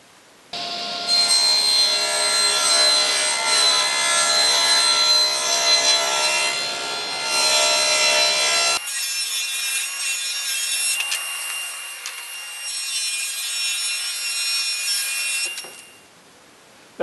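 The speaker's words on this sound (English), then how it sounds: "I'm using one of my general purpose blades for this because it does a very nice cut on plywood" Table saw fitted with a general purpose blade ripping plywood, with a dust collector running: a loud, steady, continuous cut under the motor's whine for most of the span, easing into a lighter run before the blade spins down.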